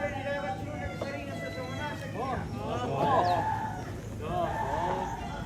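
Chickens at a gathering in Tongkonan Rante Induk, Buntao', crowing and clucking faintly in the background while people talk nearby.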